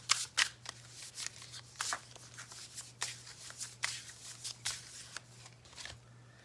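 A tarot deck is shuffled and handled close up in quick, papery riffles and slides, with bursts of card flicks separated by brief pauses over a faint steady electrical hum.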